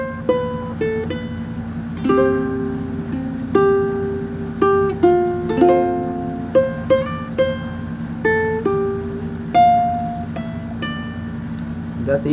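Fingerstyle ukulele plays the first verse of a song, with close, moderately loud plucked single notes and small clusters in an unhurried, steady rhythm, played solo.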